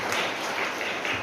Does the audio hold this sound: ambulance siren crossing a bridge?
no